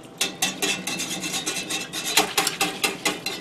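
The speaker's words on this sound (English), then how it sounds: "Let's give this a whisk." A whisk beats a tomato paste mixture in a pot, rapid rhythmic scraping strokes about every quarter second, close and crisp, with no voices.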